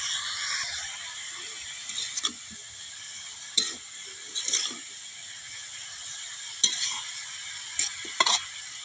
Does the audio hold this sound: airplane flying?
no